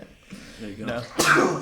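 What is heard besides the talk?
sneeze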